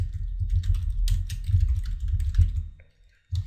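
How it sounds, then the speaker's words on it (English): A username and password typed on a computer keyboard: quick, close, clicky keystrokes in an uneven stream, pausing briefly near the end before a few more taps, with no voices. "let me type in my username and password"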